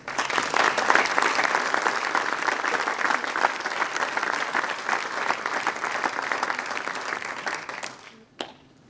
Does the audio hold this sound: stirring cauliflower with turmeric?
no